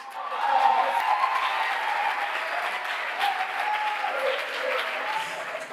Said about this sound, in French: sous vos applaudissements, je demande au professeur Pichu Yannis Sadia de bien vouloir s'exprimer